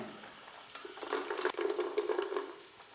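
Diced carrots sautéing in a pan for mushroom fried rice, a low steady sizzle with scraping stir strokes, close and moderately quiet, no voices.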